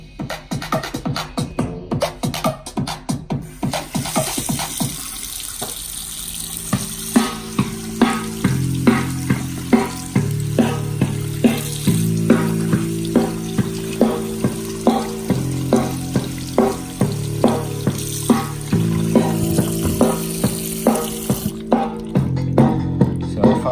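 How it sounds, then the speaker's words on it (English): Water from a kitchen faucet splashes over a portable Bluetooth speaker playing music, a constant rushing patter under a rhythmic beat with bass notes, loud and close throughout. "I'll go ahead and turn it up and then put it underneath the faucet."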